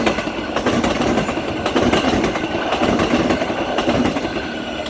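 A Transperth electric multiple-unit train passes a station close by, with loud, continuous rumbling and rhythmic clickety-clack from the wheels over the rails, and no voices.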